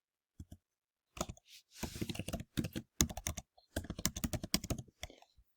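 Fingers type on a computer keyboard while entering an email login, a close run of quick key clicks in uneven bursts with short pauses between, no talk over it.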